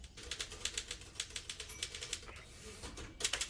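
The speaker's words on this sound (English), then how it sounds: "No, he's still typing" Rapid, uneven clatter of typewriter keys struck in quick bursts, fairly close and crisp, with a brief pause near the end before a final flurry of strikes.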